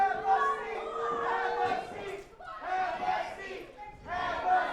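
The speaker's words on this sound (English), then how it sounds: "Crowd clamoring to have a seat." A crowd at an 880 Wrestling event clamors and shouts in loud, rising bursts of overlapping cheering and chatter, swelling and dipping over a few seconds with voices mixed through.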